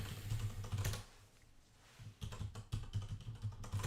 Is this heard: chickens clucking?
no